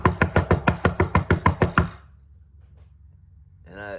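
Loud rapid knocking on a door, about a dozen sharp evenly spaced raps in quick succession, then near silence with a low room hum, followed by a brief voice at the end.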